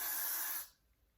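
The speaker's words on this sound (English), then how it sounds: "So over here, I'm gonna spray this just a little bit" A short burst of hair spray from a can aimed at the hairline, a close bright hiss lasting about half a second before cutting off to near silence.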